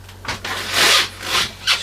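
The manual pump toilet in the head of a boat is worked, giving a series of rasping, rubbing squeaks in uneven strokes, close by and with no voices.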